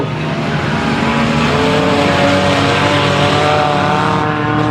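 A loud, steady engine roar holds for the whole stretch, the sustained drone of a race car running in an enduro race at Grand Rapids Speedway, with no pauses.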